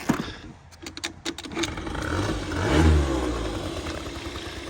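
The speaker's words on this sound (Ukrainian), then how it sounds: "Невеличкий тест-драйв заведемо, послухаємо, як він працює." A Suzuki ZZ Inch Up Sport scooter engine from Japan starts with a brief clattering crank and settles into a running, slightly rising engine note close by, with no talk.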